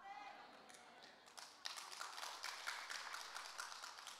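A church congregation at a prayer retreat claps softly and faintly, a few scattered taps at first, then a steadier light patter of hands that carries on to the end.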